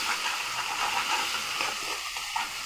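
Potatoes with spices sauté in a hot pan, a steady close sizzle and frying hiss running throughout with faint stirring scrapes.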